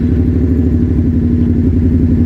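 A 2019 Kawasaki Teryx 4 LE side-by-side with a full stainless Trinity exhaust, header to tip, idles steadily up close, a deep continuous rumble with a lumpy, even pulse throughout.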